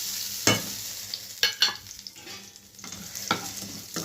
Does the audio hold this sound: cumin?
yes